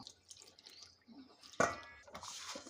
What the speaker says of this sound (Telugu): ఇప్పుడైతే కాస్త వాటర్ పోసుకొనేసి కలుపుకుందాం.